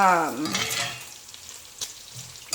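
Bacon frying in a cast iron pan, a soft steady sizzle close by, with a short voice-like sound at the start and a couple of faint clicks.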